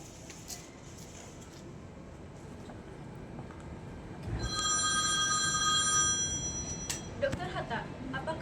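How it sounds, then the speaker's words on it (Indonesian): A telephone bell rings in a school drama staged as the Indonesian independence proclamation, a bright electric ring sounding for about two seconds over a murmuring, noisy room, with scattered knocks and clatter afterward. "Begitu sampai, Hatta mendapat telepon dari Miyoshi"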